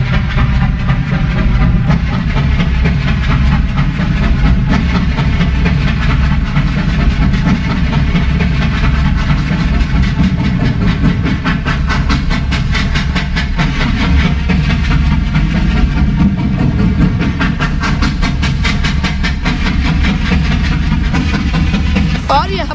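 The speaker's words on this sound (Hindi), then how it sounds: "सभी स्टूडेंट टीचर ट्रेन में बैठ जाते हैं।" Passenger train running on its way to Mumbai, a steady loud rumble with rhythmic clatter and hiss throughout, no voices.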